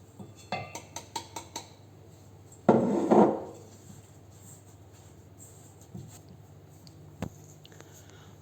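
Butter and sugar stirred together in a salad bowl for a chocolate fondant: a few quick clinks of the utensil against the bowl at the start, then a brief loud scraping burst and softer scattered scrapes, close up with no talking.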